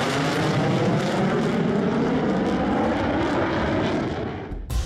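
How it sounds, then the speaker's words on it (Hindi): An F-16 fighter jet taking off from a tarmac: a loud, continuous roaring engine rumble that holds steady at close range, then drops away sharply near the end. "फिर F-16 की उड़ान भी शुरू हो जाती है"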